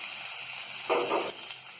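Onions, curry leaves and green chillies sizzle briefly in a pan, with a steady soft hiss and one louder burst of frying near the middle.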